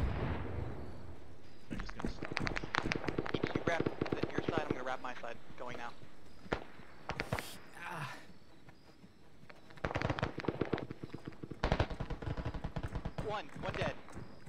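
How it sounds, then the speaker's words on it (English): Bursts of gunfire in the military shooter game Arma 3 rattle through a factory battle in rapid clusters, loud and close, with players talking over the shooting throughout. "I know they're shooting at me from the north."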